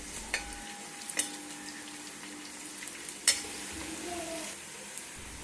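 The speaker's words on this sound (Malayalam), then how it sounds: "അപ്പോൾ സവാള എണ്ണയിലായിട്ട് ഇടണം കേട്ടോ" Sliced onions drop into hot oil for a beef roast, giving a quiet, steady sizzle broken by a few sharp clinks of a utensil against the pan.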